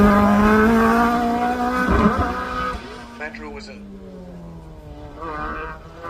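A Rover Metro GTI with a 1.4 litre K-series engine climbs a hill-climb course, its rising engine note sweeping up loudly then fading into the distance, with a commentator talking over it.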